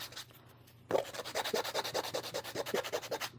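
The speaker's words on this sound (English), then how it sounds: "I'm just going to sand this black one down." A small nail sander grinds down a black resin piece, starting abruptly after a quiet moment and then rasping in rapid, even rubbing pulses, close and fairly loud.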